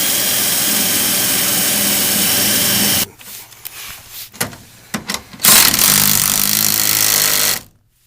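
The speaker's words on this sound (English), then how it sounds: "now we're drilling the first bracket in" Power drill boring a hole for a running board bracket in the body of a Nissan NV van, heard as a loud, continuous whine that stops abruptly, followed by scattered knocks and handling noises, then a second loud burst of drilling before cutting out.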